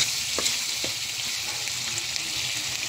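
Grated coconut fries in its own rendered oil over a strong fire while bagoong is being made, giving a steady, dense sizzle with a few soft pops and stirring scrapes, close and continuous with no talking.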